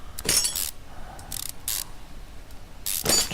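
Ratchet unbolting an oil pan in the Car Mechanic Simulator 2015 video game, heard as several short bursts of quick mechanical clicking with pauses between them, loud and close, with no talk.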